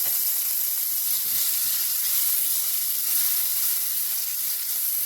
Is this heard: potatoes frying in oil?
yes